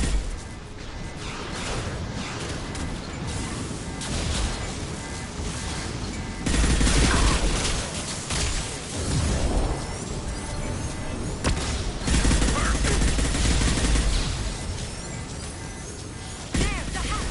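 Heavy weapon fire in the video game Mass Effect 2 bursts in dense, loud volleys with crashing impacts and whooshes, sustained across the whole stretch with little pause and faint voices beneath.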